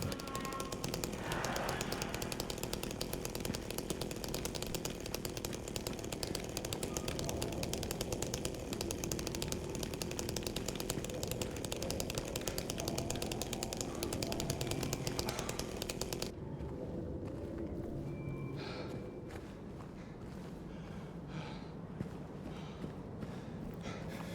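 Chainsaw revving in the Silent Hill 2 Remake horror game, a dense, loud, continuous mechanical roar for about sixteen seconds that then cuts to a quieter, sparser ambient rumble.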